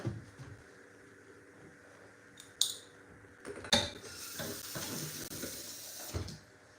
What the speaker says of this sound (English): And I think I'm going to add a little bit of water.